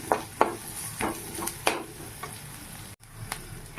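Salt, turmeric, meat masala, garam masala and cumin fry in a pan, with a soft sizzle under a series of sharp utensil clacks as the spices are stirred.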